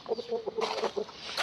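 A prized fighting rooster kept at a breeding farm gives a string of short, close clucks and throaty calls, several quick bursts over a second and a half at moderate volume with no talk.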